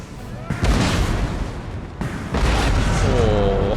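Heavy artillery fire in Empire: Total War during a large siege assault, loud booming cannon blasts with rolling rumble and overlapping volleys, while someone talks over the battle.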